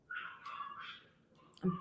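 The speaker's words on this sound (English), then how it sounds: "I apologize for my dogs." Dogs downstairs whimper and yip in high, whining bursts, followed by a short bark near the end, somewhat muffled and distant in an indoor setting.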